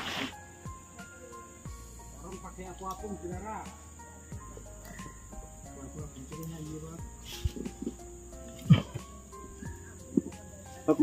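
Crickets chirp in a steady, thin, high trill at an outdoor fishing spot, continuing under people talking and some nearby knocks.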